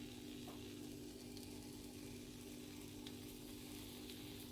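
French toast sizzles steadily in a frying pan on a stove, a constant crackling hiss with small bubbling pops, close by and unbroken, with no voices.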